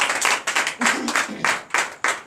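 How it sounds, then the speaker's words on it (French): A church congregation at a night deliverance service in Comè, Benin claps in acclaim for Jesus, loud rhythmic bursts of clapping arriving in roughly five pulses, with voices mixed in. "Donnez l'acclamation au Seigneur Jésus"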